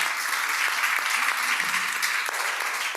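An audience applauds for the artist Leah at a talk event, a dense, even wash of many hands clapping that holds steady for the whole stretch, moderately close.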